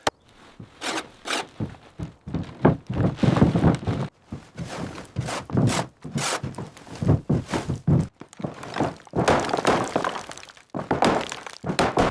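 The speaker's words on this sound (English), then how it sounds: "This beam is stuck solid. Try hitting it from your side." A stuck wooden beam is struck repeatedly inside a cabin under renovation, with dull heavy thunks and cracking knocks in irregular bursts, close and loud, mixed with scraping and shuffling movement.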